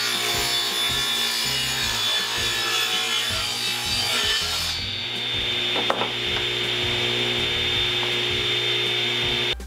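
A saw cutting plywood in a garage workshop, a loud continuous buzzing, grinding cut that changes tone partway through as the blade works along the board.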